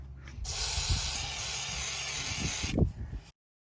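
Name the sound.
WD-40 being sprayed on brake part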